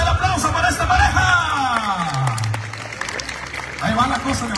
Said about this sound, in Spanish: ¿dónde es el aplauso para esta pareja?